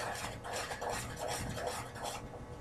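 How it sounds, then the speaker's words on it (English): A whisk scrapes steadily around a hot pan of roux for mac and cheese, giving a continuous close scratching and rubbing with a faint sizzle underneath and no talk. "Whisk your roux. Just keep whisking it."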